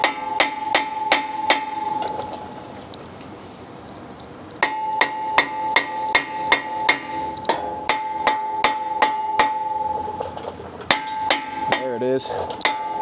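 Repeated sharp metallic hammer blows ring off a hot brake rotor on a Shelby F150 pickup, struck in quick bursts of about seven to ten hits with brief pauses between, loud and close.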